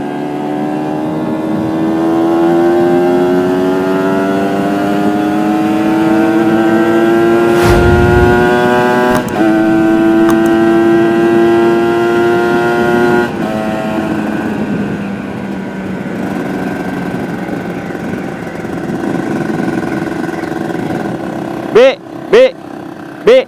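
A Kawasaki Ninja RR motorcycle engine, fitted with a PJ34 carburetor and a new needle, revs up and holds a high, rising whine, then eases off before a few sharp blips of the throttle at the end.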